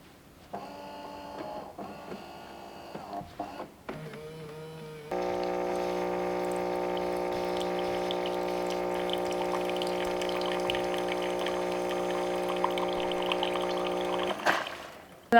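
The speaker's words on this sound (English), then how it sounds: "it is going to rinse this main hub where the espresso comes out of" A KitchenAid KF7 espresso machine runs its start-up rinse cycle, first whirring and clicking briefly, then a loud steady pump hum with water flowing through the brew head for about ten seconds before stopping.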